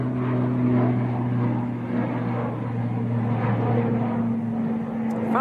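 An Aer Lingus airliner departing Manchester Airport for Belfast gives off a steady engine drone with a sustained low hum, even and continuous throughout.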